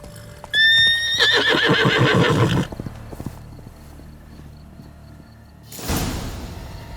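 A horse in The Witcher 3 on PS5 lets out a loud, close whinny lasting about two seconds, followed by quiet and then a short thudding shuffle near the end.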